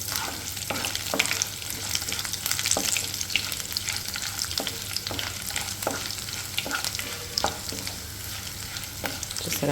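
Onions and garlic frying in oil in a pan, a steady close sizzle with frequent scraping stirs and light clinks of a spoon throughout.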